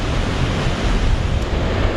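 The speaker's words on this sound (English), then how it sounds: "Rather windy today." Strong wind beside a river in Norway buffets the microphone, a loud, continuous rough rumble blended with rushing water and no speech.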